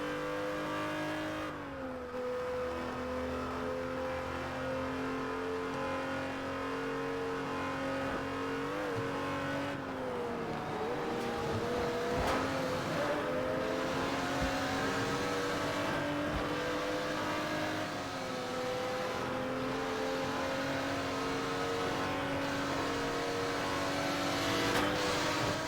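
A supercar driving around the island in Test Drive Unlimited Platinum, its engine droning steadily with shifting pitch as it accelerates and changes gear, alone and continuous.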